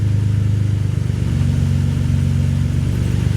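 Cold-started Nissan 300ZX twin turbo engine running on E85 with dumped wastegates, a steady loud mechanical drone with throbbing low harmonics, held revs and no voices.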